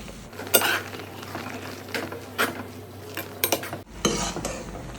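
Metal utensil scrapes and clinks against a pot in short strokes, with a soft wet shuffling of Burmese atho noodles being stirred, close by and no talking.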